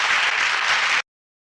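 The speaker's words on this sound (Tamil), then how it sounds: "என்றவுடனே மாணவர்கள் கைதட்டி ஆரவாரம் செய்தனர்." Students in a classroom clap and cheer, a brief burst of dense applause lasting about a second before stopping sharply into silence.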